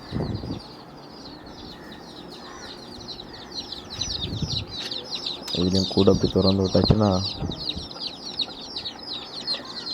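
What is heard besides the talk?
country chickens coming out of the coop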